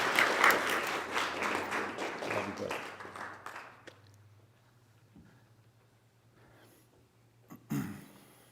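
An audience applauds a speaker at a church talk. The clapping is loud at first and fades over about four seconds, leaving a quieter room with a low hum and a few stray sounds.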